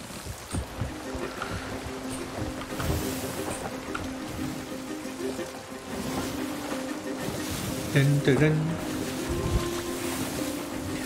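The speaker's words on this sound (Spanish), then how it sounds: "Mola el sonido que tiene también el juego, el romper las olas contra el casco." Waves breaking and sloshing against a ship's hull in a pirate video game, a steady wash of ocean surf and wind with a louder splash near the end, while someone talks briefly over it.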